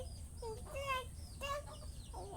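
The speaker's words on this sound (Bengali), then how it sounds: "এটা তো একটা বড় মুরগি।" Large chicken clucking nearby, several short rising clucks in quick succession over low background noise.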